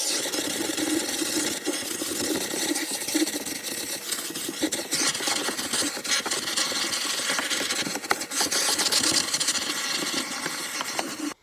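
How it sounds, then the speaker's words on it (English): A vacuum cleaner sucks crumbs out of a car's interior, a steady, loud, close rasping whoosh with scraping and rubbing as the nozzle drags over surfaces, running continuously without pause. "I'm gonna start off with vacuuming all the crumbs"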